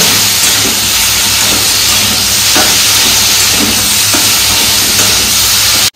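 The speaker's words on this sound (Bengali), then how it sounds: "ভেজে নেব।" Ginger paste and poppy seed paste frying in a pan for a vegetarian shukto, a steady loud sizzle and hiss that holds even for six seconds with faint crackles, then cuts off abruptly.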